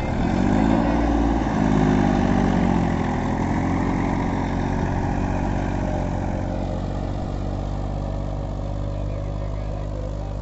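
A Massey Ferguson 241 DI tractor pulling an 11-tine cultivator at a farm demo in a village runs with a steady, loud diesel drone, its pitch rising slightly early on, then holding even throughout with no speech over it.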